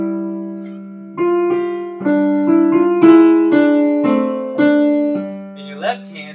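Piano playing a phrase of Ode to Joy, a steady series of clear sustained notes over a held lower note, close and fairly loud, ending with a brief soft breath or voice sound.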